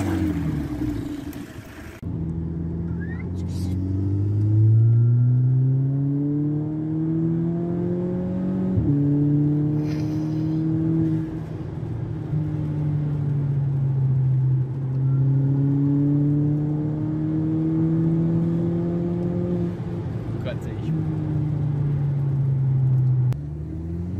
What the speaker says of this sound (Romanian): Și acum o să mergem și să dăm o tură cu GoPro, să vedeți cum accelerează.